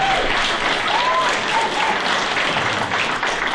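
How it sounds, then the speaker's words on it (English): A talent show audience applauds loudly and continuously throughout, with cheers and whoops rising over the dense clapping. "they deserve a round of applause"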